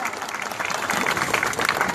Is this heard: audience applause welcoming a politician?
yes